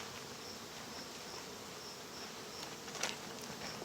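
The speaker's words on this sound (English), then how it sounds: "Shaking bees" Honey bees from a cell starter hive droning in a dense, steady buzz as frames are shaken, with a brief louder swell near the end, close-up and without speech.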